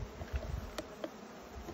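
Faint, low honey bee buzzing hums under a quiet background at a hive, with a few soft bursts and clicks scattered through the short stretch.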